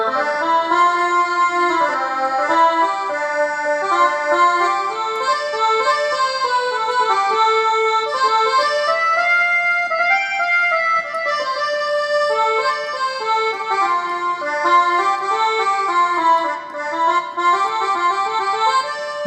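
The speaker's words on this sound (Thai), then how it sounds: "จะมีหลายๆเสียงตัวอย่าง accordion เนาะกดไปเลย" An accordion preset on a Kurtzman SV800 keyboard plays a continuous reedy melody over sustained chords, steady and upfront for nearly twenty seconds with no voices.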